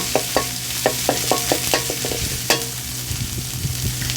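Curry paste with cha plu leaves stir-fried in oil for a prawn red curry, a spatula scraping and tapping the pan in a quick rhythm over a steady sizzle, close and loud with no talking.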